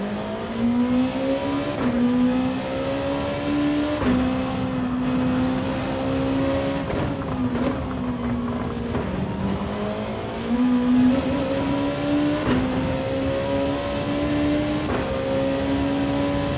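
Mid-engine GR2 race car in a racing video game, its engine revving steadily and loudly for the whole stretch, pitch rising and dropping with brief dips at gear changes, no voices over it.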